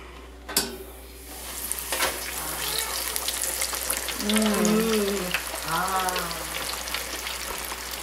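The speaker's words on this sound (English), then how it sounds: "Frying that fish." Steady sizzling and crackling of cornmeal-coated fish frying in a pan, with a sharp clank near the start and voices talking quietly over it.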